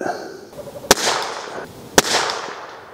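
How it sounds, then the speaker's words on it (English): Two sharp, loud rifle shots from a Tikka T1X firing cheap ammunition, about a second apart, each with a brief echoing tail outdoors. "Those last 3 shots were good."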